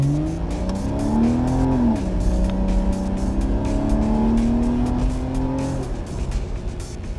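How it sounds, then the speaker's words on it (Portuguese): A Porsche Boxster 2.5 Tiptronic six-cylinder engine runs steadily and close by, its tone climbing and dipping slightly in a continuous, loud drone for about six seconds before easing off. "o som inconfundível do seu Boxster de 6 cilindros."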